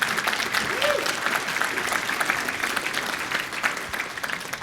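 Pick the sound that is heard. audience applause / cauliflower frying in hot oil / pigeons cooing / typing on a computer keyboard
audience applause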